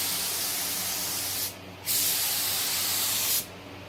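A spray gun lays clear coat over a stripe on a Mustang in steady, loud hissing passes. Two short pauses break the spray partway through.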